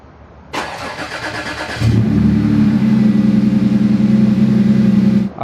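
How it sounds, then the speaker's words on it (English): A starter whirs briefly, then a modified Porsche 911 S4 engine (dual pulley, heat exchanger) catches and settles into a loud, steady idle close by. "let's get a cold start"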